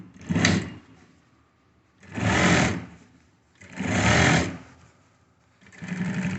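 Sewing machine stitching the seam of formal trousers, running in four separate bursts of rapid mechanical whirring with short quiet pauses between them, close and clear with no talk.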